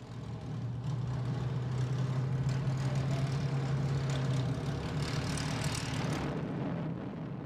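Supermarine Spitfire, a Second World War piston-engine fighter, flying past with a steady, loud propeller drone and low engine hum that holds throughout before easing slightly at the end.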